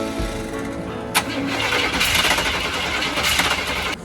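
A Cadillac engine cranks briefly, then catches with a sharp burst and settles into a rough, steady idle, close and loud with no talking.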